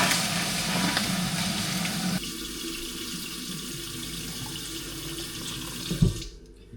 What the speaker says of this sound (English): I put the hot water first, just so it like kind of mixes well.